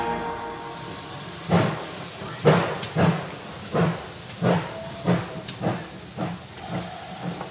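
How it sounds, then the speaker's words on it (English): Steam hisses in repeated rhythmic bursts, roughly a dozen breathy chuffs at a steady pace after a quieter start, loud and close, with a faint whistle-like tone between some of them. "Steam."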